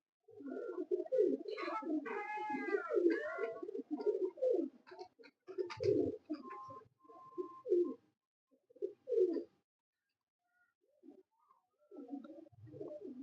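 Champion pigeons from a cross with black birds coo steadily at close range, overlapping soft throaty calls in rolling bursts that thin out toward the end, with no talk.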